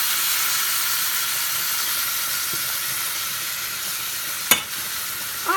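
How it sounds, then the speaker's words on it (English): Steak searing in a pan for Puerto Rican steak palomilla, a loud continuous sizzling hiss close up, with a sharp clink near the end and no talking. "So I'll turn this around again so it's nice and seared."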